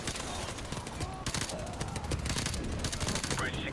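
Gunfire crackles through a Call of Duty 4: Modern Warfare campaign mission played on veteran difficulty, with scattered shots and bursts over a dense, noisy battle background.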